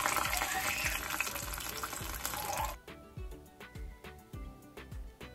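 Oil sizzles loudly in a pan while Afghan sticky rice with meatballs is cooked. The dense frying hiss cuts off after a few seconds to quieter crackles and soft, regular taps.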